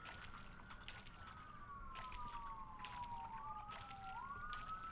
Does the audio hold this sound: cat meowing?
no